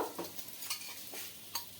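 Soft sizzling of a paratha frying in oil in a pan, with a few brief scraping stirs standing out at intervals; fairly quiet and close, no voices.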